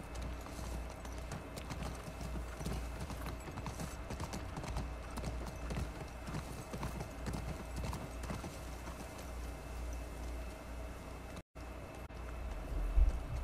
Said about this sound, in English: Right, let's get on the horse.